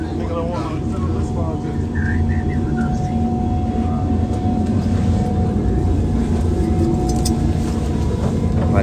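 Steady jet airplane engine roar inside the cabin, a constant broadband drone with a faint tonal hum, with people talking over it throughout.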